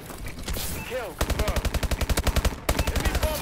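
Automatic gunfire in the video game Call of Duty: Advanced Warfare, heard as two loud, rapid bursts of evenly spaced shots after a short whooshing lead-in.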